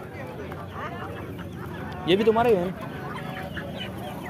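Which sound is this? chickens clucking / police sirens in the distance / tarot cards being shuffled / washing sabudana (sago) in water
chickens clucking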